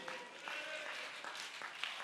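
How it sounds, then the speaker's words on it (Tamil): A church congregation claps during a worship service, with faint, distant clapping under a reverberant room tone and several sharper individual claps standing out. "என்ன விசுவாச கைத்தட்டு!"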